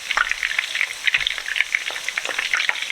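Meatballs sizzle and crackle steadily in a frying pan, with close popping of hot oil and occasional scraping as they are turned.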